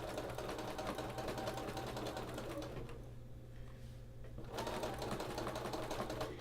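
A sewing machine quilting fabric runs in a steady, rapid mechanical stitching rhythm, pauses briefly, then starts up again at the same pace.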